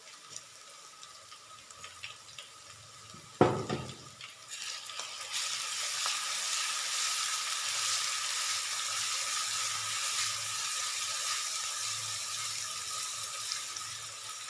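Fresh ginger garlic paste frying with golden-brown onions, a sharp clatter as it goes in, then a rising, steady close sizzle with faint stirring scrapes.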